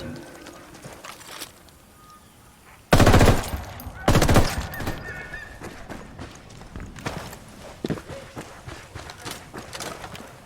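A mounted weapon fires in the Ghost Recon Wildlands video game, with two loud bursts of rapid gunfire close by, followed by scattered sharper shots and game effects, with faint voices underneath.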